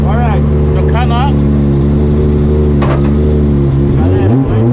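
Formula Drift car at an event in Atlanta, its engine holding a loud, steady idle throughout with strong low harmonics, while voices talk over it and a brief rev or pitch shift comes near the end.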